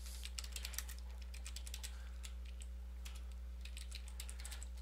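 Quick bursts of clicky keystrokes on a computer keyboard, with runs of typing and repeated backspacing, close and fairly quiet over a steady electrical hum.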